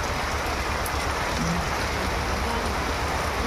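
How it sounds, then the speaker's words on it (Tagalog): Heavy rain pours down in a dense, constant roar of drops, loud and close, with no pauses or voices. "Lumakas yung ulan."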